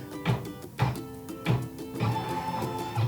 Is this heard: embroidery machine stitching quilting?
yes